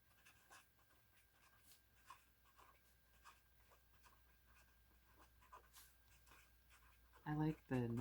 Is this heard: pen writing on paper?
yes